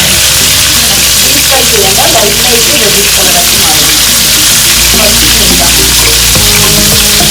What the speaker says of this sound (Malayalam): 3 സ്പൂൺ എണ്ണ ഒഴിച്ചു. ഇനി ഒരേ പീസ് ഇങ്ങനെ കുറച്ച് ഇതൊന്ന് മറിച്ചിടാം.